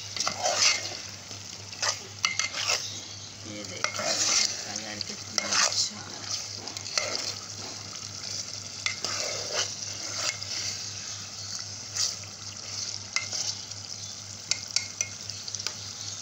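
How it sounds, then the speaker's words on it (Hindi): Steady sizzling of minced-meat keema masala frying in a pan, with repeated scraping and stirring of a spatula throughout; no voices. "अब ये भुन जाएगा थोड़ा और ये देखें बल्कि ये भुन रहा है"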